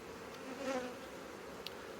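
A steady, soft hum of honeybees at a beehive, a mass of bees buzzing close by, with a brief sharper buzz near the end.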